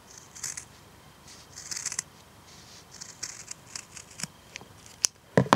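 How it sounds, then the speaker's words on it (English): Scissors snip through a doubled layer of sock fabric on a curve, giving a run of soft, close crisp cuts with a couple of louder snips near the end. "you're going to use your scissors and cut through both layers of the sock on a curved angle"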